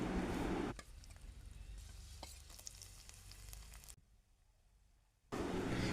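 Garlic, ginger, green chilli and curry leaves sautéing in hot oil, a soft steady sizzle with occasional stirring, dropping to near silence for a moment before the frying resumes.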